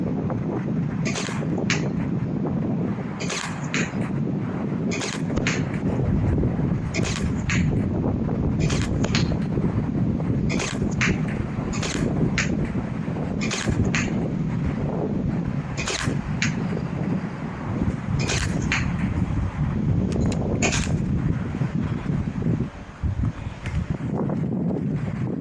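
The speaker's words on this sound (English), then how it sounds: "The wind is very strong now" Strong wind blows steadily outdoors at a foam dart testing range, a constant loud rush of wind noise buffeting the microphone, with repeated sharp faint clicks and pops of darts being fired through it.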